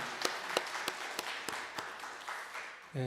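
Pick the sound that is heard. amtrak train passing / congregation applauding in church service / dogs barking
congregation applauding in church service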